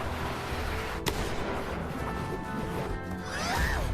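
A single sharp gunshot from the RWBY animated series cracks out amid a dense, busy soundtrack of music and action effects, followed by a rising whooshing sweep toward the end.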